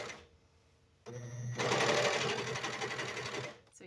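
A Janome 104D sewing machine stitching over fabric at the end of a seam on nursing pads: after a short quiet pause and a click, a steady, close mechanical whir runs for about two seconds, then stops.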